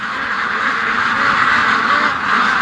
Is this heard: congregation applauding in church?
no